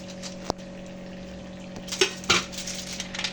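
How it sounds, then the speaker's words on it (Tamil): Cashews and raisins drop into hot ghee in a pan for a Kerala dish, bringing a sharp clink, then clattering spoon stirs over a soft frying sizzle. "இப்போ கேஷ்நட்டும் கிரேப்ஸும் போட்டுடலாம். இப்போ தனியாக வறுத்து எடுத்து வச்சுக்கோங்க."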